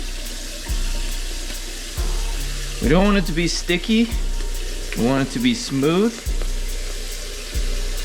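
Water runs from a tap in bursts while wet hands knead pupusa dough, with a person talking over much of it.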